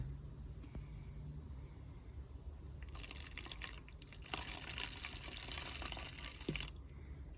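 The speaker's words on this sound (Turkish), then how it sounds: "Yalnız bu suyun birazını dökeceğim bunun içine." Water pours into a container in a steady trickling stream that swells for a few seconds and then stops, faint and close, with no talking.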